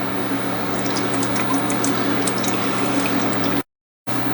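Wort draining steadily from a brew-in-a-bag grain bag of an all-grain home brew, a continuous close trickle and splash of liquid, alone, ending with a brief gap.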